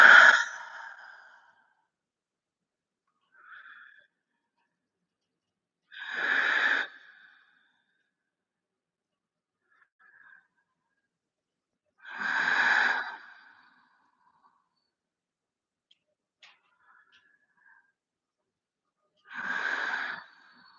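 Slow, deep yoga breaths drawn in and let out, four long exhalations spaced several seconds apart with faint breaths between, close and otherwise quiet.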